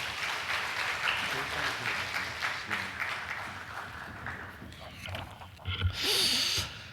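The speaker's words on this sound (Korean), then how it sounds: "박수로 목사님 맞이하시겠습니다" Church congregation applauding to welcome the pastor at a Sunday evening service, a broad sustained wash of clapping across the room with murmuring voices underneath, swelling again near the end.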